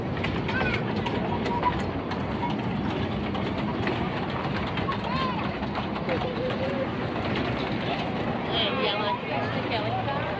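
An amusement park ride train runs with a continuous rumbling, rolling drone close by while people talk over it.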